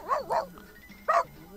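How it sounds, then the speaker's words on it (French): A pet dog in The Sims 3 barks at a window, two quick close barks, a pause, then a third bark, clear and alone over a quiet game background. "si ça l'amuse d'aboyer sur la fenêtre, pourquoi pas."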